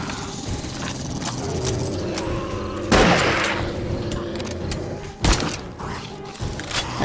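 Gunfire in 7 Days to Die during a blood moon horde night, scattered shots with a louder burst near the middle and another sharp shot later, over a busy background with faint voices.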